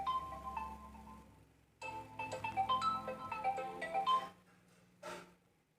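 A phone's ringtone plays a melodic repeating tune during an online class, sounding in two bursts with a pause between them and a short final chirp, fairly close and with no talk over it.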